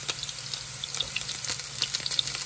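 Chili hisses and sizzles steadily in a frying pan with garlic and onion, a close, crackly frying sound with no talking.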